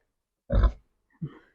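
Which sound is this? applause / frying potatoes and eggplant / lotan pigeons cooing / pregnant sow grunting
pregnant sow grunting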